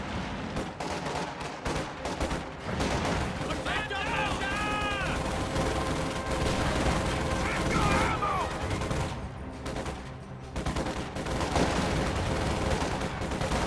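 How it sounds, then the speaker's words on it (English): Rapid gunfire and bursts of battle noise from a real-time strategy video game, a dense continuous clatter of shots layered with game voice lines and a commentator talking throughout. "Middle squad is under fire"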